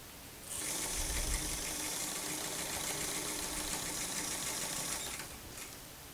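A sewing machine stitching a seam on a retro-styled dress, starting up and running in one steady, fast mechanical whir of needle strokes for several seconds before stopping, close and clear with no talk.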